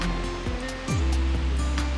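Heavy white water of Sarika Waterfall in Nakhon Nayok pours during the rainy season, a dense, continuous roar with faint intermittent splashes and a low rumble underneath.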